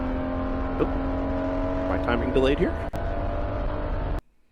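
Race car, the NP01, passing loudly along the track at Barber during a World Racing League endurance race: a sustained engine roar with a sweeping pass that swells and fades, heard under a commentator's voice before cutting off abruptly.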